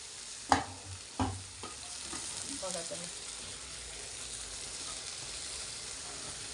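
Okra (bhindi) for a home-style Marathi vegetable dish is tossed into a pan, opening with two sharp metallic clanks of a utensil. A soft, steady sizzle and hiss of stir-frying follows and slowly fades.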